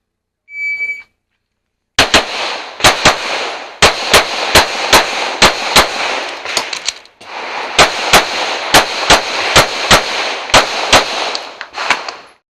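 Pistol fire on a stand-and-shoot IDPA match stage: a short timer beep, then a fast string of sharp, loud shots in quick bursts with brief pauses, close to the shooter and with no talking.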